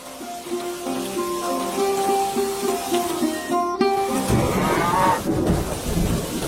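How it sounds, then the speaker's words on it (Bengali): Steady rain falls in a rural setting, a constant hiss under a low rumble of thunder, while soft cattle moos sound through it. "বৃষ্টি আরো জোরে নামতে পারে।"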